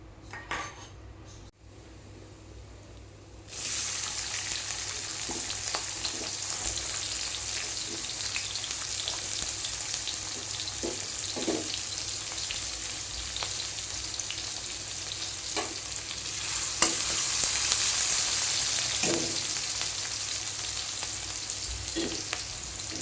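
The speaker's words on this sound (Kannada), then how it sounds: "ಎಣ್ಣೆ ಕಾದ್ಮೇಲೆ ಜೀರಿಗೆ," Cumin seeds sizzle in hot oil while chana masala is cooked at home, a steady bright crackling hiss that swells louder partway through, with occasional soft knocks of a utensil against the pan.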